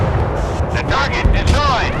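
Warship guns in the naval video game Force of Warships boom in a rapid series of loud, heavy blasts with rumbling low-end tails, while electronic whooshes and chirps from the game weave between the shots.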